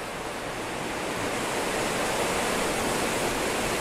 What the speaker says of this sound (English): You can probably hear the wind in the trees.